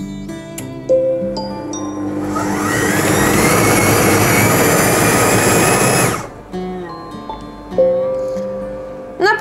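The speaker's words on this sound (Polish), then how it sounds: "I ponownie mieszamy, tym razem obroty 6, czas 5 sekund." Monsieur Cuisine Smart food processor whirring loudly at speed 6 as it mixes potato gnocchi dough, a steady motor roar of about four seconds that rises and cuts off, with quiet kitchen sounds around it.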